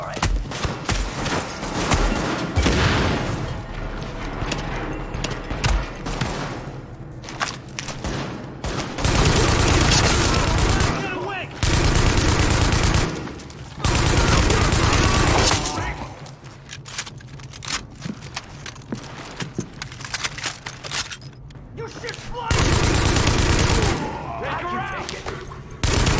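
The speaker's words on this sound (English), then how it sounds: "Escort party's taking heavy fire from the roof." Heavy gunfire in The Division rattles in dense, loud bursts of rifle and machine-gun fire, broken by brief lulls before the next volley, close and sustained throughout.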